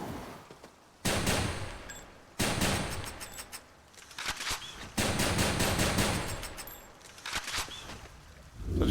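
A shotgun fires in the video game Hades, with loud, close blasts opening several bursts of rapid, crackling shots that ring on between volleys; no voices.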